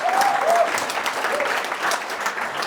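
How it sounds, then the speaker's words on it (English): An audience claps steadily through a short stretch during a personal-growth talk, a continuous wash of applause with a faint voice near the start. "You can clap, it's okay, why not?"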